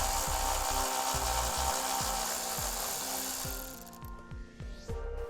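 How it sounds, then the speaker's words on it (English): A power tool or impact wrench removes a bolt from the body of a 2014 Toyota Sienna. It gives a rapid series of repeated mechanical ratcheting bursts that slow and break up toward the end. The sound is close and steady, with no talk. "We'll remove the bolt,"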